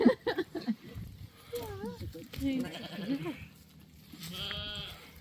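A sheep bleats several times up close, wavering cries spread through the clip between short bursts of a person's voice and handling noise.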